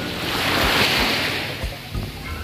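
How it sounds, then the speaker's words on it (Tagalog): Ocean waves break and wash steadily onto the shore at a beach front campsite in Dingalan, Aurora, near the Sierra Madre, loud and continuous with gusty wind buffeting the microphone and no voices. "Ito na ang karagatan."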